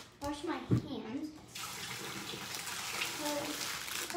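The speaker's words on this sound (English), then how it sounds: "So first I'm gonna wash my hands." Hands are washed under a running tap, with splashing and rubbing at first, then a steady hiss of flowing water. It is moderately faint and close, and a voice is heard early on.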